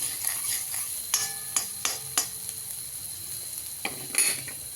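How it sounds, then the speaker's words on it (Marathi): Raw green chillies sautéing in a pan, a low sizzle broken by several sharp metallic scrapes and clinks of a spoon stirring, close and fairly loud, with no talk. "लाल होतो आपण असं परतून घेऊया"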